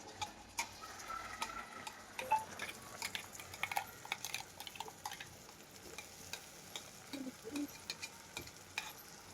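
Ground masala paste frying with onion in a pan for mutton sukka, a soft steady sizzle broken by light ticking spatula stirs, close but quiet, no voices.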